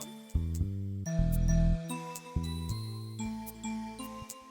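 An electronic music pattern from a Roland MC-707 groovebox loops with punchy bass notes, steady chords and light percussive ticks, played at moderate volume with no voices.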